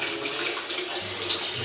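Water pouring steadily into a bathtub filled with ice, a continuous close rushing splash with no break and no talk.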